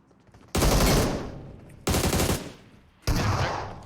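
Three loud, close bursts of automatic gunfire in PUBG Mobile, each beginning sharply and ringing out briefly before the next, evenly spaced over a few seconds.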